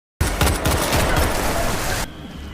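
Rapid automatic gunfire from a James Bond film scene, a dense loud burst of overlapping shots lasting about two seconds, then cutting off abruptly to a faint background.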